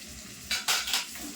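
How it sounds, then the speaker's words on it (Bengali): Green chilli paste, turmeric and salt being stirred in a pan for spicy chicken kosha: a few short, loud scraping strokes of a spoon against the pan over a faint background. "এবার মশলাটা খুব ভালোভাবে কষিয়ে নেব"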